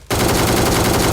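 Rapid gunfire from a shotgun in the battle royale game BGMI, a loud burst of overlapping shots that starts abruptly after a brief quiet moment and runs continuously to the end.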